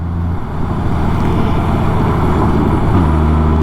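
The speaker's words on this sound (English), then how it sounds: "Your boy Chris is out on the Goldwing. Out on the Goldwing, trying to get me a ride in." Honda Goldwing DCT motorcycle riding on the road with a loud, steady engine drone and wind rush that hold throughout, with no talk.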